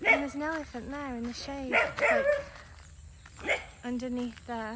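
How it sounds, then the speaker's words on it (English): A dog barks in short repeated bow-wow bursts outdoors at an elephant transit home in Udawalawa, Sri Lanka, fairly close, with a person talking in between the barks. "That's the dog barking."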